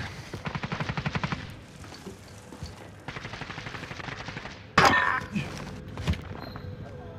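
Call of Duty: Modern Warfare gunfire, rapid bursts of automatic shots in rhythmic clusters followed by a louder sudden blast, fairly quiet overall with a faint voice underneath.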